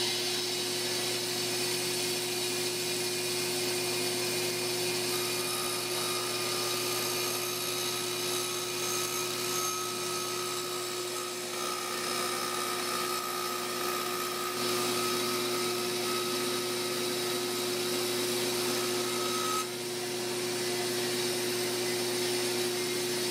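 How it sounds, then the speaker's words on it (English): A bandsaw cuts a tenor guitar outline from a wooden blank, giving a steady, continuous mechanical hum and whine that holds at an even loudness for the whole stretch, with no talking. "I just quickly sawed off the 3 edges of this in the bandsaw, so it would be a little bit more maneuverable for me to cut out the outline"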